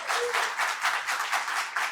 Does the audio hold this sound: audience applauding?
yes